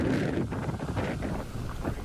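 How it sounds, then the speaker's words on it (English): Strong hurricane wind gusts roar and buffet the microphone in continuous gusts through downtown Houston, a dense rushing noise with no voices. "That's what those powerful wind gusts sounded like as they blew through downtown Houston."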